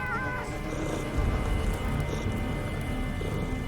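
A cat in the video game Underrail lets out a drawn-out meow or yowl over a steady, rain-like ambient wash that runs the whole time.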